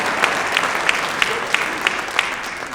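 Audience applause at a Veterans Day concert celebrating the Marine Band's birthday: a full, sustained wash of clapping with a faint steady rhythmic beat of claps running through it.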